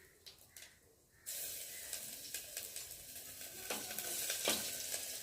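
Cumin seeds and garlic frying in hot oil as a tempering: a faint hiss then a sudden steady sizzle that swells, with a few soft stirring scrapes on top.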